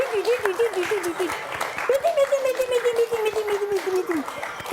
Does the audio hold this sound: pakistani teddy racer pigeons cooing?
no